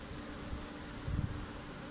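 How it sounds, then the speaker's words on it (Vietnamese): A native honeybee colony hums during a hive inspection, its dense, steady buzzing close by with a slight swell midway and no voices. "Ong nó mới chuyển đến nơi mới cho nên nó hơi loạn."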